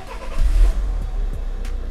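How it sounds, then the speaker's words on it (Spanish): A car engine turns over and catches, settling into a low, steady idle close by. "Voy a arrancar el coche"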